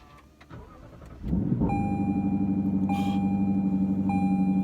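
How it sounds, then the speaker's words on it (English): A 2018 Lexus LC 500 engine cranks briefly on a cold start and fires up, then settles into a loud, steady idle, with a few short chimes ringing over it. "So let's do a cold start up and let's get going."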